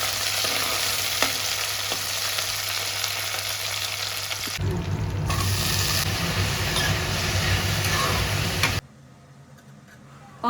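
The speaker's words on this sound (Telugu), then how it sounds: "పోపు వేసుకున్నాను." Tempering spices sizzle in hot oil in a pan for an eggplant and potato curry, a dense, close crackling hiss that runs steadily and then cuts to near quiet at the end.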